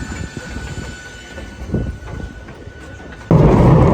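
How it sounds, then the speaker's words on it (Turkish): An old train in Portugal heading toward the city centre, a steady rumbling ride with faint clatter and a louder roaring rush near the end. "Tren o kadar eski ki"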